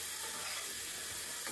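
Garlic fries in hot oil with a steady, faint, close sizzle that stays even for the whole short stretch, with no voices.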